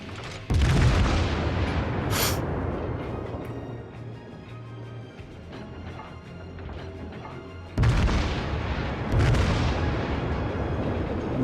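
Heavy naval gunfire from the battleship Kongou in World of Warships: deep booming salvos with a loud blast at the start and another near the end, over a steady low rumble of battle ambience.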